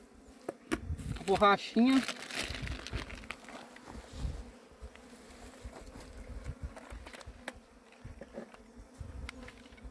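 A swarm of Apis honey bees buzzing close by, a dense, wavering hum that swells loud early on and then settles into a steady drone, while a person speaks briefly over it.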